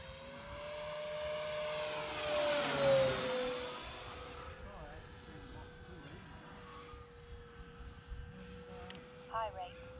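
An FMS P-47 Razorback 1.5 m RC model plane flies past, its propeller and engine drone swelling as it nears, then fading and holding steady at a distance, with a voice speaking briefly.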